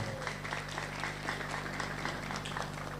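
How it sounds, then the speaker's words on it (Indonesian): Faint, distant applause from an audience for a hadrah team at a religious gathering, steady clapping under a constant electrical hum. "Tepuk tangan buat tim Hadrah"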